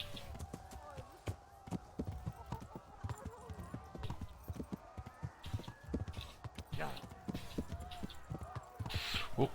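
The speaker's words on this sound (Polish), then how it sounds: "O kuźwa, ale szybki koń." A horse galloping in Kingdom Come: Deliverance, hoofbeats thudding in a rapid, uneven rhythm with clattering detail, fairly quiet in the mix, alongside occasional other game noises and some voices.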